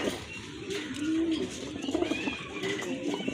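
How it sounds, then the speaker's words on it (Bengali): Pigeons in a loft coo softly and repeatedly at close range, their low rolling calls overlapping with faint rustling and a little background murmur. "আরেক জোড়া কবুতর ভাইয়া লফটে"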